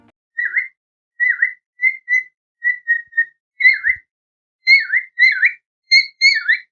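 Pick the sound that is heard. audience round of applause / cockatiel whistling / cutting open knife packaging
cockatiel whistling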